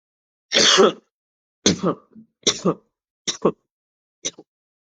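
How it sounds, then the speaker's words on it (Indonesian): A person coughs several times in a row, loud and close, with the bursts growing shorter and quieter. "Maaf Bu, saya batuk."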